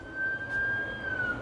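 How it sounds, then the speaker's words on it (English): A steady high ambulance siren tone holds over a low rumble of traffic, fairly faint and distant, sustained through the whole moment. "Oh no. An ambulance is here."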